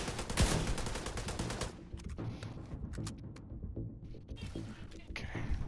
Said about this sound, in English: this guy is somehow slipping between every bullet I'm firing